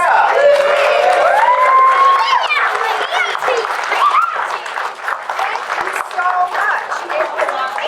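Audience applause and cheering fill a kids' Cinderella play after a handmade carriage is presented, dense clapping mixed with crowd noise and a few voices rising over it, loud and continuous throughout.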